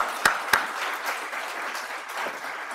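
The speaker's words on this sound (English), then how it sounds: "invite a round of applause for all of our speakers" Scattered applause from a small room, two sharp claps standing out early, then a steady soft patter that continues at moderate level.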